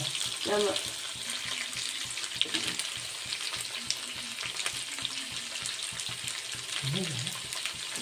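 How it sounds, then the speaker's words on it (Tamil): Faint, steady sizzling of pirandai (adamant creeper) sautéing with salt in a pan, with occasional stirring scrapes and brief soft voice sounds in the background. "போட்டு நல்லா வதக்கணும்."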